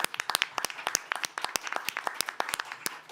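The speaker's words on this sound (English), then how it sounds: "A big round of applause for the panel," Applause from a conference audience for a panel discussion on nature financing, a brisk run of many hands clapping at moderate distance, with no voices over it.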